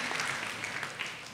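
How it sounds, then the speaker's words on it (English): Brief, faint applause from an audience at a National Board Certification celebration, thanking a JROTC color guard; a soft, distant patter of clapping lasting about a second. "Can we clap for them?"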